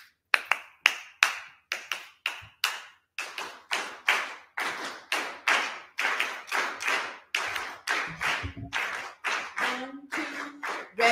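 A class claps the habanera rhythm together, a repeating syncopated pattern of sharp, close hand claps in distinct groups with short pauses, and a voice briefly joins near the end.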